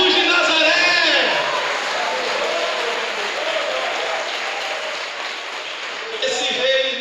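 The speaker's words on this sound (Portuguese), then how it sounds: "Aplaude a Jesus de Nazaré." A church congregation applauding during a teaching service, loud sustained clapping filling the room while a preacher's voice carries over it at the start and end.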